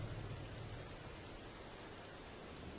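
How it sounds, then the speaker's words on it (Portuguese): Rain falls steadily as a soft, even wash of noise. It is quiet, constant and continuous, with no voices and no distinct drops standing out. "Por que não espera a chuva passar"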